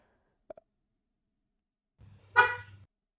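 A car horn gives one short, soft honk at low volume, preceded by a faint click, with near silence around it.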